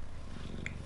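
A cat purrs while resting on a lap: a soft, steady, close rumbling purr with even pulsing throughout and no other sounds.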